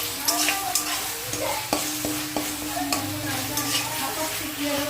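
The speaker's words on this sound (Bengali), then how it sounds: "এই মশলাটা ভালো করে কষাবো" Spices with turmeric and fenugreek are stir-fried in a pan, a steady close sizzle broken by repeated scraping clicks of a spatula over about five seconds, no talking.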